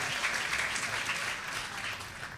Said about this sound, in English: Let's give him another round of applause as mayor.